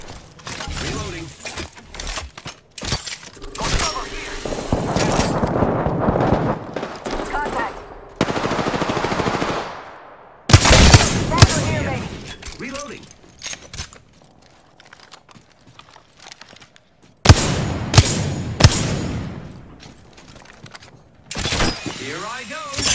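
Gunfire in the video game Apex Legends: loud bursts of automatic fire and single shots come in separate volleys with gaps between them, alongside clicking mechanical handling noises and a voice calling out in the game.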